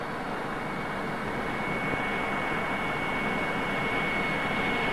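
Steady, even drone of an RAF aircraft engine in level flight on the downwind leg of a circuit, a constant airy roar with a thin high whine running through it and no talk.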